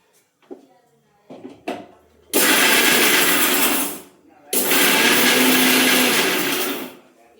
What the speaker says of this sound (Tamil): அதுக்குள்ளே நான் மிக்சி போட்டு வந்துடுறேன்.